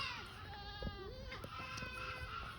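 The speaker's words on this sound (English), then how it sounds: "So I guess these are baby goats. Sounds like they're yelling for their parents or their mother." Baby goats bleat repeatedly at a goat dairy farm in Vermont, several wavering cries overlapping close by, with no talking.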